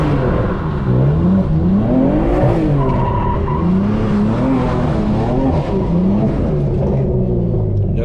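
A manual BMW M3 drifting and spinning donuts, its tires skidding and squealing in long wavering howls over a steady, loud engine roar that rises and falls with the throttle, close up throughout.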